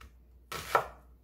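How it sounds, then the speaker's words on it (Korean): A single sharp knife chop through green onions on a board, crisp and close, with a brief quiet pause before it. "쪽파 한 준 한 3cm 정도 가량으로 이렇게 썰어줍니다"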